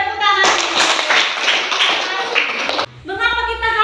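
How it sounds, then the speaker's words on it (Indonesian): A classroom of students clap their hands together in a dense burst lasting about two and a half seconds, loud and close, with a teacher's voice speaking before and after. "Ya, tepuk tangan."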